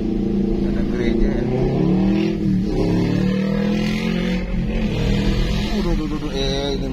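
A loud motorbike passes on a town street, its engine note rising and falling as it goes by close, with people talking over it the whole time.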